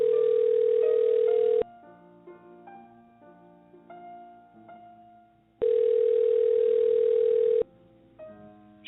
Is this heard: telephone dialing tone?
yes